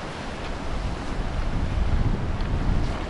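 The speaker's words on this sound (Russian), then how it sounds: "там вот волны разбиваются, гляньте, как классно" Steady rushing surf at Kudepsta, Sochi, with wind buffeting the microphone, waves breaking on the shore in a continuous low roar, no voices.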